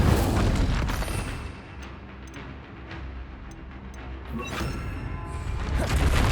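Incendio fire spell blasts in the Hogwarts Legacy video game, heard as deep booming explosive bursts at the start and again near the end, with rumbling combat noise in between.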